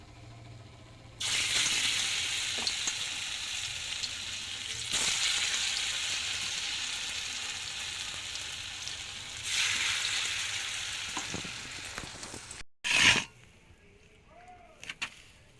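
Shiuli flower, coriander and mustard flower fritters in gram-flour batter fry in hot oil with loud, steady sizzling. The frying surges as more batter drops in, with a few utensil clinks, then the sizzle briefly drops away near the end.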